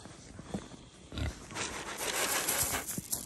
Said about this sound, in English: Oh, pig, pig. Pig, pig. Big pig.